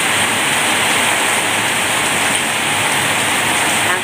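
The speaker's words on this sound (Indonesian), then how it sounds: "Deres banget, deres." Heavy rain pours down in a dense, constant hiss and roar, loud and unbroken throughout with no voices over it.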